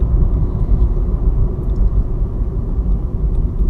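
An electric vehicle driving while regenerative braking slows it, heard as a steady low road and drivetrain rumble from inside the cabin, continuous with no voices.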